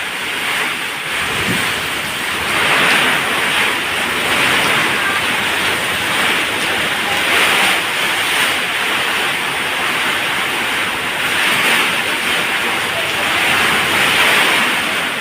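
Heavy rain and strong wind from Typhoon Opong roar continuously and loudly nearby, a dense unbroken wash of noise with gusts swelling and easing throughout.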